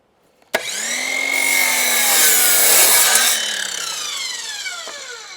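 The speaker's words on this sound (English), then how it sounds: "I don't know if Makita or DeWalt or Festool make a battery powered chop saw like this." An Inca battery-powered chop saw cuts through wood at an off-grid site. The blade starts abruptly, then a loud, steady whining cut holds for about five seconds with a rising and falling pitch before the saw winds down, and no one speaks.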